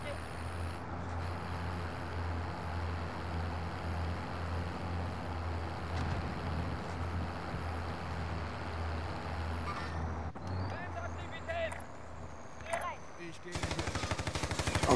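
Bursts of automatic gunfire crackle through a Call of Duty Warzone match, dense and sustained over a steady engine-like drone, with a sharper rapid rattle near the end.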